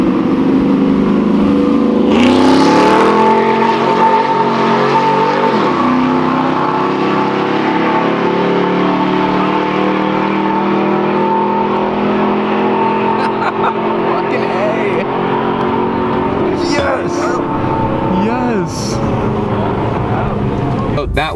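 A Volkswagen Mk6 GTI with an APR Stage 2 tune accelerates hard in a rolling race from about 40 mph, its engine droning loud and steady with rising pitch, gear changes and wind rush. A voice talks over it.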